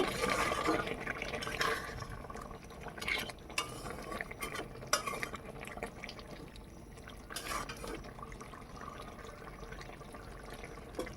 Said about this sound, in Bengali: মশলার বাটিটাকে ধুয়ে আমি জল দিয়ে দিচ্ছি গরম জলই দিলাম এখানে